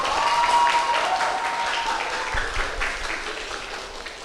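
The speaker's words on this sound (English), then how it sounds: "Let's give the loudest claps for them." A crowd applauds the grand finalists at a student competition event, loud continuous clapping mixed with scattered cheers and a few voices, gradually easing off toward the end.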